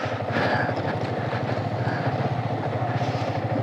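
A Yamaha R15 V3 motorcycle engine runs steadily on a morning ride, a low pulsing drone with a regular rhythm, close and continuous, with faint road and wind noise over it.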